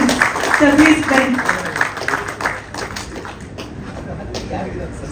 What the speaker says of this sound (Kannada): ಒಂದು ಜೋರಾಗಿ ಚಪ್ಪಾಳೆ ಬಲ್ಲಿ ನ್ಯಾಚುರಲ್ ಸ್ಟಾರ್ ವಿಜಯ ರಾಘವೇಂದ್ರ ಸರ್